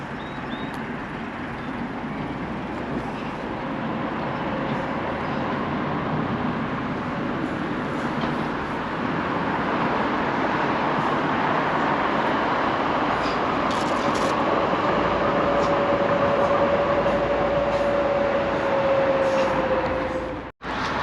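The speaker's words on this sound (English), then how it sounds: "it's starting to move, the train." DLR train at Gallions Reach station pulling away: a steady rumbling hum with a rising electric motor whine that swells and holds, ending with an abrupt drop; no talking.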